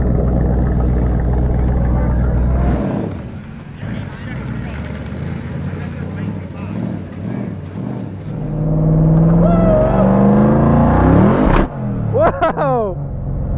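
A 2020 Toyota Supra drift car's engine drones loudly and revs, then surges into high-pitched, rising wails near the end, with people talking over the roar.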